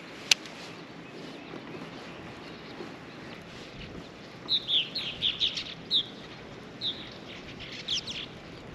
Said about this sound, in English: Birds playing with each other.